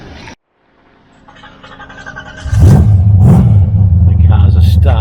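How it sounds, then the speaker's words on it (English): A car engine starts up and settles into a loud, steady idle and low rumble as vehicles begin moving onto the Spirit of Tasmania ferry. It comes after a brief silence and faint rising noise, and a couple of knocks sound over it. "The cars are starting to move."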